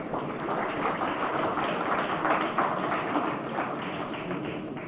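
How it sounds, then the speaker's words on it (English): An audience applauds at the EY Entrepreneur of the Year India 2016 awards ceremony, producing a muffled, moderately quiet patter of many hands clapping that swells slightly midway and then eases off. "So a round of applause for them too."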